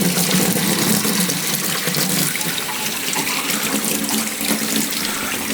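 Water draining from a clogged laundry sink, a steady loud rushing and gurgling with no voices.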